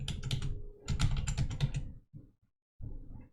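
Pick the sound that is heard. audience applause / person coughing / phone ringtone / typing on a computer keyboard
typing on a computer keyboard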